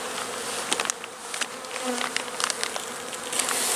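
Honey bees buzz during a March hive inspection, a dense, close, continuous drone with individual bees whining past now and then.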